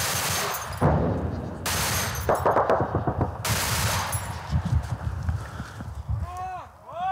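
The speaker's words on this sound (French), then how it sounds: "La riposte s'organise avec cette mitrailleuse, équipée de balles explosives." A machine gun loaded with explosive rounds fires in long, loud bursts, with gaps between them and other shots crackling during a firefight in a combat zone. A voice can be heard faintly in the background.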